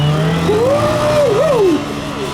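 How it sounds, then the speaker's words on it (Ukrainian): A Lifan KP-200 motorcycle revs at the start line of a motorcycle gymkhana run, its engine pitch rising and swooping in steady throttle blips, loud and close, with no talk over it. "мотоцикл газує"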